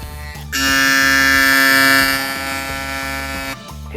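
An MRD Moreda hair trimmer with a 13K RPM vector motor switches on into a loud, close buzz, holding steady for about three seconds before cutting off, with a lower background rumble before and after.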